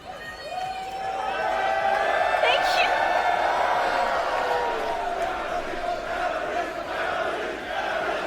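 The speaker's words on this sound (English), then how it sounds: "You can even hear our very own Vita2 Heart cheering here." A concert crowd cheers and shouts with sustained voiced yells and whoops rising over a dense roar, loud and close, swelling after the first second and holding steady throughout.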